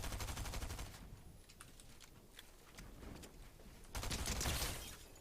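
Gunfire in the battle-royale game Fortnite during a solo cash cup match, rapid bursts of automatic shots layered with short sharp cracks, a loud dense volley near the start and another heavy barrage toward the end.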